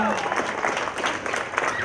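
Audience applause at a live mimicry show, a steady wash of clapping lasting the whole moment, fairly loud and close with the crowd's murmur mixed in.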